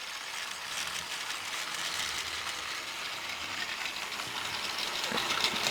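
A toy Diesel 10 Takes Charge train rolls past close by, a steady whirring, ratcheting mechanical clatter of gears and wheels that grows slightly louder toward the end, with no voices.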